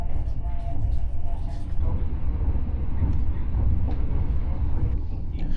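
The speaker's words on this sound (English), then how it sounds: "The train is now running at 155 km per hour and the ride is very smooth and" A steady low rumble of a Laos-China Railway high-speed train interior running smoothly at 155 km/h, constant and unbroken, with faint voices in the background.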